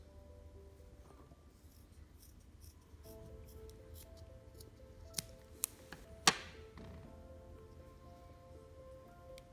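Small scissors snip through a used ear candle with a few sharp, close clicks in quick succession, a single louder cut standing out against quiet background hiss.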